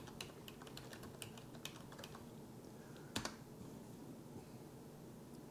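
Keys clatter on a computer keyboard in quick, light bursts, close and quiet over a steady background hum, with one sharper tap near the middle and no voices.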